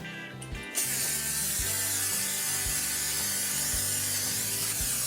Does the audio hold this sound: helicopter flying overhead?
no